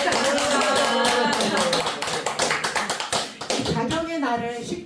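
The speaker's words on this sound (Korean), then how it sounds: "박수 좀 쳐" Listeners at a Buddhist dharma talk clap at a monk's prompting. The scattered, sharp claps come in bursts under the close voice of a person speaking throughout.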